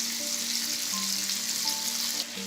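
Hilsa fish shallow-frying in hot oil in a pan, a steady, dense sizzle that holds continuously at close range, with a few faint tonal clinks in the background and no talking.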